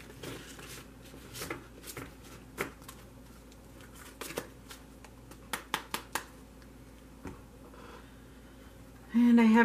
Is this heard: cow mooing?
no